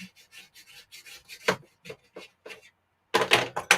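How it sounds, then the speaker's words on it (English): A blade trims wooden bridge support pieces to equal height, giving short, rapid rasping and scraping strokes close up in quick bursts, a pause, then a denser cluster of cuts; no talking. "So I'm just trimming these till they're equal height."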